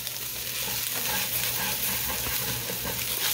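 Rice toasting in oil and seasoning in a pot for stuffed pepper soup, a steady close sizzle with soft stirring scrapes running throughout without a break, no voices.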